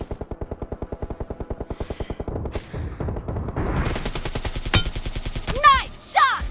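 Rapid automatic gunfire from a team-based video game, a fast steady burst of shots at the start giving way to denser mixed firing, blasts and sharp effects, loud and close throughout.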